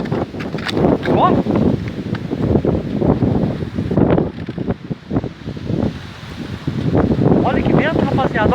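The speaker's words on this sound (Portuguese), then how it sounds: "Tá vindo esse vento forte." Strong wind in Guaratinguetá roars and buffets the microphone in uneven gusts, rushing through bamboo, while several people talk and shout over it throughout.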